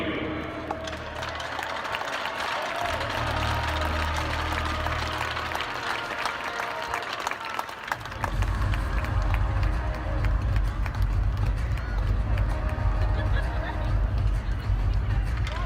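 Crowd applause and cheering at a college hockey arena for 2018 Desert Hockey Classic champions Clarkson University, a dense, continuous roar of clapping and babble that grows louder and fuller midway through.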